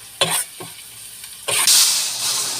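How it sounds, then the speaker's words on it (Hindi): Masala and dal base roasting in a pan, with a few quick stirring scrapes followed by a louder burst of close, bright sizzling, brief and with no talking. "तो इसको भून लिया है सही से हमने।"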